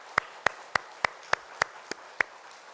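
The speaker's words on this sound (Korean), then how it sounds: "우리 영광을 받으신 하나님 앞에 감사의 박수 올려드리겠습니다." Rhythmic clapping from a church congregation at a Friday prayer meeting: eight sharp, evenly spaced claps at a steady beat, fairly close and clear against a quiet room.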